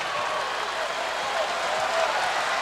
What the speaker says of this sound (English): the fans, with that unsolicited applause, they just appreciate great volleyball